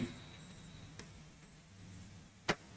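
A marker or chalk moving over a board during a Hindi grammar lesson, sounding as faint scratchy strokes in short bursts with a sharper tap near the end, no speech.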